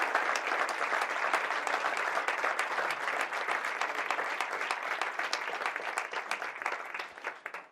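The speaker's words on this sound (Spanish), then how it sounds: "quiero que le demos un aplauso fuerte a todos esos padres que luchan por todos nosotros" An audience at an addiction treatment talk bursts into loud, steady applause for parents, the clapping thinning out and fading over the final seconds.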